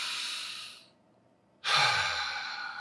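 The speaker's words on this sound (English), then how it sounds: "Let's just take another deep breath." A person takes a slow, deep breath, a long airy exhale trailing off into a brief pause before a strong, close inhale fills the rest of the moment.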